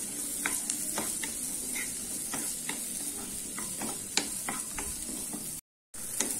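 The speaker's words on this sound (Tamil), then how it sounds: "அதை போட்டு வதக்கலாம். வெங்காயம் கொஞ்சம் நல்லா வதங்கட்டும்." Onions and green chillies sautéing in a pan give a steady sizzle, with repeated close clicks of a spatula stirring, and a brief dropout near the end.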